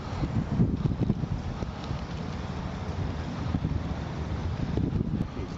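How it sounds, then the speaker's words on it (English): Strong wind gusting steadily while a kite is flown outdoors, a broad continuous rush with heavy low buffeting on the microphone and no speech. "The wind is coming."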